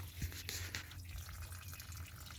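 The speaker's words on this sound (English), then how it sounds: "Okay, so I'm just going to hose this off." A garden hose sprays water onto dried-out ATV plastics, a faint, soft hiss and patter of water hitting the panels, steady with a few brief splashes.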